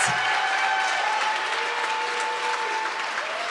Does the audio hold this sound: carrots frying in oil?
no